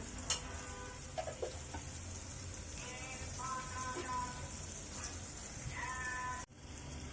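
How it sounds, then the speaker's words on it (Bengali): A medium-sized sliced onion frying in oil in a pan, a steady low sizzle running throughout with a few faint clinks and bleat-like squeaks from the pan, cutting off abruptly near the end. "একই প্যানে আমি আরও কিছুটা তৈল দিয়ে দিচ্ছি এর ভিতরে দিয়ে দিচ্ছি মাঝারি সাইজের একটা পেঁয়াজ কোচানো"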